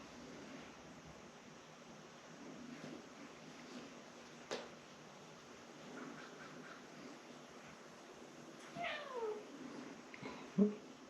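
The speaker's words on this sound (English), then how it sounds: "This cat meows so much." A pet cat meows indoors during a crochet session, giving a few short, soft meows toward the end over a steady background hiss.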